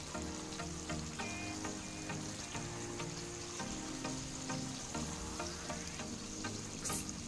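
Egg kaju masala curry with coriander being mixed in a pan, a continuous sizzle with soft stirring scrapes and occasional clicks, close and steady throughout.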